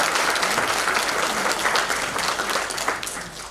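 A theatre audience applauds steadily at a youth show at a cultural centre in Moinești, Romania, dense clapping filling the room loudly and evenly throughout with no voices over it.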